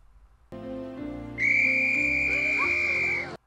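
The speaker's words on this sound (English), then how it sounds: "whistle" Whistle blown in the 1990 movie Kindergarten Cop, a loud sustained shrill blast lasting about two seconds over a brief musical tone, close and clear.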